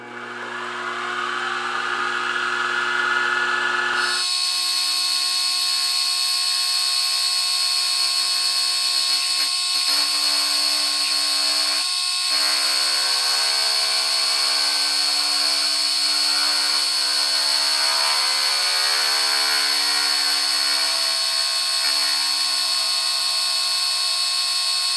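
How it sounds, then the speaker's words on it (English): A milling cutter machines a block in a workshop mill, a loud continuous high whine and grind that starts abruptly after a lower motor hum and holds steady for about twenty seconds with a couple of brief dips. "Just had enough travel on that milling cutter."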